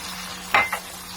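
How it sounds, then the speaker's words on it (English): Egg for an omelet frying in a pan, a soft steady sizzle with two quick scraping stir strokes in the middle, close and fairly quiet. "We will fry it for 2 to 3 minutes until it gets cooked."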